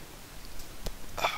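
A single short cough sounds nearby, followed by a brief breathy throat noise.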